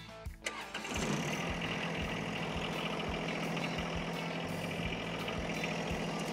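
A John Deere lawn tractor engine cranks briefly, catches and roars to life, then settles into a steady, rumbling idle with a regular low thump running throughout.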